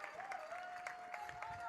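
Scattered applause from a thin crowd at a summer collegiate baseball game between the Corvallis Knights and Ridgefield Raptors after a double, light clapping in the distance under steady talk.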